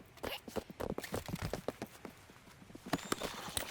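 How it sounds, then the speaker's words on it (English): Horse hooves clip-clop at a walking pace in Red Dead Redemption 2, steady close hoofbeats in an uneven rhythm with faint ambient noise beneath. "Vale, me está siguiendo mi caballo."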